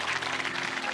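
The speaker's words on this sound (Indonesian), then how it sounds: "Tepuk tangan dulu buat Yuki Kato." A brief burst of steady studio-audience applause greeting guest Yuki Kato on an Indonesian evening talk show, even and full-bodied throughout.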